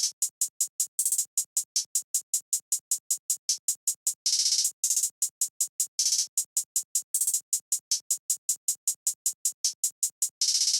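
A programmed hi-hat pattern in a dark trap beat rings out alone as fast, steady crisp ticks, broken by several brief rapid rolls that blur into buzzing bursts, loud and close.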